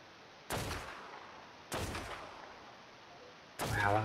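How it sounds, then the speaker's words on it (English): Three separate gunshots in a video game, each a sharp loud crack with a short decaying tail, spaced about a second or more apart against a quiet background. "that took me 3 shots to kill"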